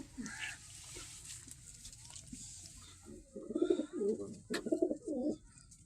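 Soft, low cooing of a desi pigeon in repeated throaty bursts over a faint background hum, growing louder toward the end.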